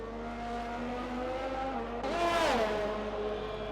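A Formula 1 Alfa Romeo in a racing video game drones steadily with a layered, harmonic engine note, then revs up sharply partway through, the pitch climbing and settling again, with no talk over it.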